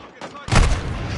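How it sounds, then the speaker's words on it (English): Cruise missile strike in Call of Duty: Modern Warfare II on PS5: a sudden loud explosive boom with a broad rumbling roar that lingers, preceded by softer game noise. "Friendly cruise missile inbound."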